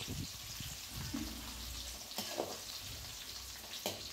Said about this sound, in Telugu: ఆనియన్స్ బాగా ఫ్రై చేసుకోవాలి